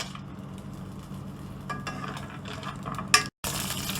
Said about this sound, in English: Add ghee. Roast the cashew.